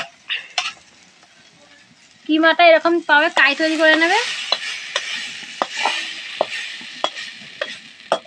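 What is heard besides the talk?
chicken mince being stir-fried in a wok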